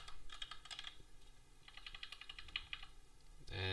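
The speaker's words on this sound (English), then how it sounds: "if I start typing" Rapid keyboard typing in two bursts with a short pause between, crisp clicky keystrokes close to the mic, followed by a brief louder thump at the end.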